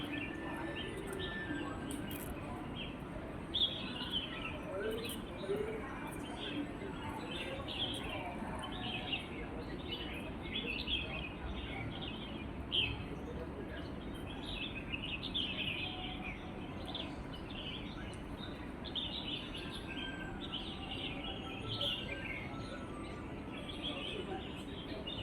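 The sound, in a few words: birds singing outside Shatin Town Hall, Hong Kong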